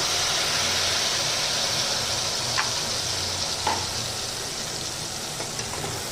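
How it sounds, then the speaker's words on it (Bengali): Mustard paste frying with fish in a pan for a Bengali mustard parshe fish curry, a steady, close, hissing sizzle with a couple of faint stirring clinks, no voices. "এবার আমি দিয়ে দিচ্ছি সর্ষে বাটা"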